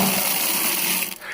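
Ice-cold water is poured from a bucket to wash feet in the mountain village of Mana, making a steady, close splashing gush for about a second that then breaks off into a few trailing drips.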